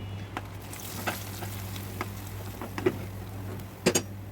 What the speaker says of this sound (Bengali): প্যানের মধ্যে ডিমের পেস্ট দিয়ে দেওয়ার পরে ভালোভাবে নাড়াচাড়া করতে থাকলাম, যাতে করে জমাট বেঁধে না যায়।